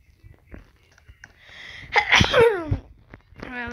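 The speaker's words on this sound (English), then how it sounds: "I guess I've been sneezing all day." A single sharp sneeze bursts out near the microphone, followed by a brief voiced exhale, with quiet background noise before it.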